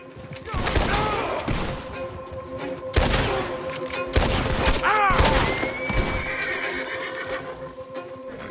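Gunfire in Red Dead Redemption 2 crackles in a few sharp bursts amid loud horse whinnies and clip-clopping hooves, with the shots partly masked by the animals and game ambience.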